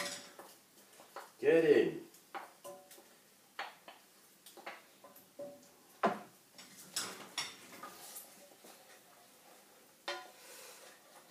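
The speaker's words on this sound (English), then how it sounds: "Tip your mixture swiftly into that pan, stirring as you go." Carbonara egg mixture tipped into a pan of pasta and stirred quickly, utensils clattering and scraping against the pan in uneven bursts while someone talks.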